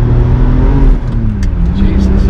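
A car engine roars loudly and continuously nearby as the vehicle accelerates with spinning wheels at Goodwood.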